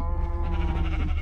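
A sheep bleats in Minecraft, a single wavering, nasal bleat over a constant low hum, close and clear for about a second.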